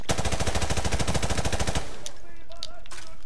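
Rapid automatic gunfire from the video game Call of Duty Modern Warfare Remastered, a loud, even burst of shots lasting nearly two seconds before cutting off to quieter in-game sounds.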